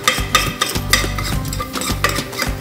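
A spoon scrapes and stirs spices in a sizzling pan for butter chicken, giving rhythmic close clinks and scrapes over a soft frying hiss, with no talk.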